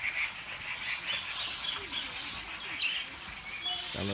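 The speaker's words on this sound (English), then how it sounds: "Got a little parrot here." A small parrot gives quiet high chirps and short squeaky calls at a farm in Taiwan, faint and intermittent against a steady bed of insect-like hiss and other distant bird noise, with no talking.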